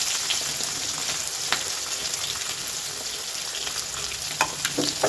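Onions and green chilies fry with cumin in hot oil in a home kitchen, giving a steady, close sizzle with a few sharp pops and faint stirring taps, and no talk over it.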